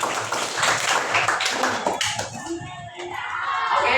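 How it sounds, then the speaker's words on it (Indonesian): Classroom students clapping for the first group after its presentation, a dense burst of hand claps that thins out toward the end, with some voices mixed in. "tepuk tangan untuk kelompok 1"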